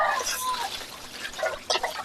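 Water splashes and trickles in short bursts, close by, as fish is washed with turmeric, with a brief gush near the end; voices murmur faintly in the background.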